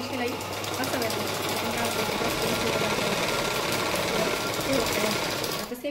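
A sewing machine stitches a blouse sleeve with a continuous, fast mechanical whirr and rattle, loud and close, running steadily with no pauses.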